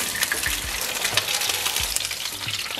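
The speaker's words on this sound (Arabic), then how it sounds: "الزيت حمى زين، نقلي الكبة ونقليها لمدة دقيقتين الى ثلاثة من كل جهة." Mosul-style kibbeh frying in hot oil, a steady loud sizzle and crackle that runs continuously and close up with no talking.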